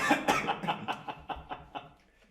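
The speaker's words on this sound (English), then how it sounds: "coughing up a storm" A person coughs in a rapid series of about eight harsh bursts that taper off toward the end, close to the listener and with no talk over it.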